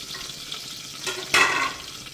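Onions fry in a pan under a soft, steady sizzle, with one louder burst of hissing partway through, close and without talk.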